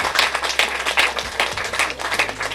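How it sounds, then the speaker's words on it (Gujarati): An audience at a women's award ceremony claps in a rhythmic, pulsing round of applause that carries on steadily and fairly loud throughout. "અમી અને મહેતા માટે જોરદાર તાળી"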